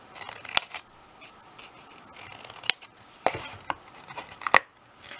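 Scissors snip through card for a Christmas cracker gift box, several sharp close snips spaced unevenly over quiet rustling of paper handling.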